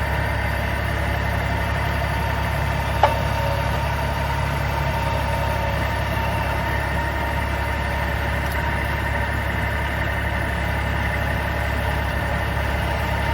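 A tractor engine drones steadily, low and continuous, idling evenly throughout with a faint mechanical vibration and one brief tick, no voices.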